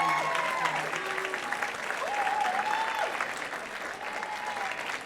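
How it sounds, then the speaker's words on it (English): Graduation ceremony audience applauding steadily and fairly loudly across the whole stretch, with a faint background voice or tones riding over the clapping. "I ask that they just quickly stand where they are so that we can applaud them"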